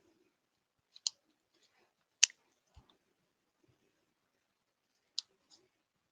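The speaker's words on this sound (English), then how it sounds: "Just cutting out the little squares." Paper being snipped into small squares for gift bags: a few isolated crisp scissor clicks spaced seconds apart, close and quiet, with near silence between cuts.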